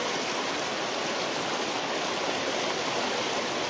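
Flood water from the Manu river pouring in after an embankment breach at Adinabad, Rajnagar, Moulvibazar, a steady unbroken rushing roar like a stream, close and continuous with no voices.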